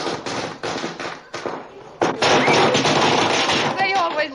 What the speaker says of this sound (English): They always light firecrackers when I come home.